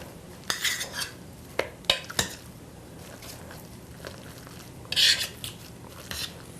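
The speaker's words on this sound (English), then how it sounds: "if you want to make sure to really break up that garlic, then just keep mashing it" Garlic cloves being mashed in a pan for garlic mashed potatoes: scattered scraping and clinking strokes of a utensil against the pan, a few sharp taps and a longer rasping scrape, close and alone without talk.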